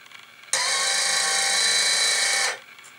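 A linear actuator motor runs on a steel plate on a motion platform prototype, making a loud steady high whine with a metallic drone for about two seconds before stopping abruptly. No one speaks.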